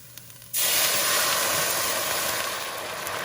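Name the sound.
red wine deglazing a hot pan for beef stew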